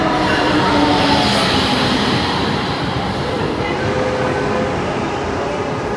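A Brightline passenger train bound for Miami pulls out of the new Boca Raton station, heard from inside the first car as a steady, loud, dense rumble of wheels and rails that holds without a break.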